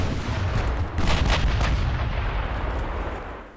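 Battleship main guns fire in the naval game Ultimate Admiral: Dreadnoughts, a loud, continuous rumbling barrage of heavy booms with a sharper burst in the middle, fading toward the end.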